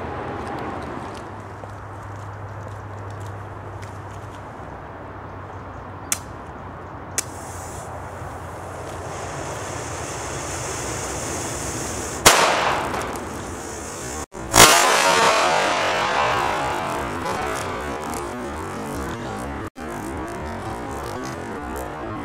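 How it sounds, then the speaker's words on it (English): A TLSFx Striker airsoft cap grenade loaded with dried peas goes off outdoors with a sharp, loud bang, followed by a second burst and a lingering noisy rush over quiet ambient sound. "the explosion itself was quite impressive. It's a very loud bang."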